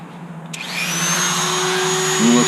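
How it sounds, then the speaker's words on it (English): A small Dremel rotary tool spins up with a sharp start and settles into a steady high whine, close and loud, while working on a Predator 212cc engine. "Grab my little Dremel."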